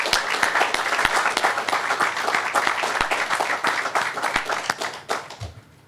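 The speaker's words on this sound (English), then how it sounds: "Round of applause for you as well." Audience applause at an outdoor headquarters groundbreaking ceremony, a dense steady wash of many hands clapping with a few sharper nearby claps, fading out near the end.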